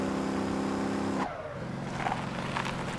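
A truck in the Motor Town driving game running at top speed: a steady engine drone that drops off abruptly, then continuous road and tire noise with faint squeals.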